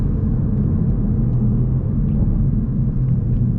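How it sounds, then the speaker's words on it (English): Stock 2020 Toyota Supra A90 in sport mode on a freeway during a 40 mph roll, exhaust burbling as a steady, loud low rumble with road noise throughout and no talk. "You hear the little burble tune."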